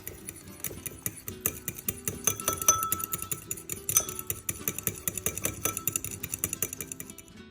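Scallop carpaccio mixed with crushed pepper and sesame seeds: quick, rhythmic light clinks and taps of a utensil against a dish, close and fairly even for several seconds, with no talk.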